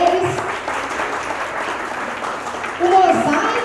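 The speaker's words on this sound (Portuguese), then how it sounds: "salva de palmas para eles" Audience at a science talk night in a restaurant gives a brief round of applause for the waiters, clapping blended with nearby talking and cheering voices over a few seconds.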